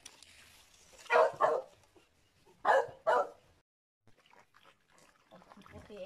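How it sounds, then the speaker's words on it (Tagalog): Dogs at a rural home barking in two pairs of loud, close yelps, then quieter sounds and faint talk toward the end. "Happy ang mga aso."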